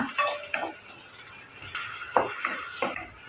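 Curry leaves and onion sautéing in a pan for a Tamil tamarind curry, a soft continuous sizzle broken by a few scraping stirs and light clinks of a spoon on metal.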